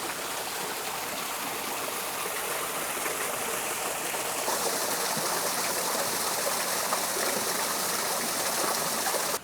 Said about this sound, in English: And a waterfall in the back.